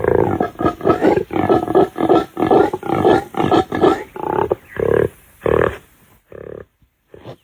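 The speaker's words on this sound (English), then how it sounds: "That deep, guttural sound might make you think there's a lion nearby, but it's actually a male impala defending his territory." A male impala gives a deep, guttural territorial roar during the rut in the African wild, a run of about ten loud, rasping grunting bursts in steady rhythm, fading into a few weaker, shorter calls at the end, with no talk.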